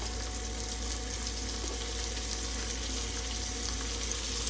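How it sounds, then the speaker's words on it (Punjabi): Chopped onion and green chili sizzling in hot oil for a bhindi sabzi, a steady, moderately quiet frying hiss that holds evenly the whole time, close by with no voices. "ਹੁਣ ਅਸੀਂ ਪਿਆਜ਼ ਪਾ ਦਵਾਂਗੇ ਨਾਲ ਹੀ ਹਰੀ ਮਿਰਚ ਪਾ ਦਾਂਗੇ"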